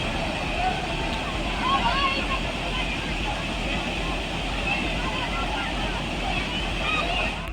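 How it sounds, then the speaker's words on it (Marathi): Water overflows from the Shivani Bandh reservoir in a continuous, steady rushing roar. A faint murmur of a gathered crowd of visitors sits underneath. "हा जलाशय सध्या ओसंडून वाहतोय"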